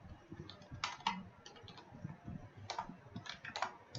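Quiet keystrokes on a computer keyboard, a quick irregular patter of taps with a few louder clicks, close and alone without talking.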